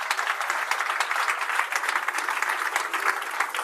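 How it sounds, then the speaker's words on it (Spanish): An audience applauds to welcome a professor of financial economics onto the stage at a talk, a steady dense wash of clapping that continues without a break at moderate loudness and no speech over it. "Un fuerte aplauso."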